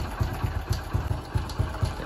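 An old, worn-out motorcycle engine runs steadily nearby, its low, even idle thumping repeating at a regular rhythm with no voices over it.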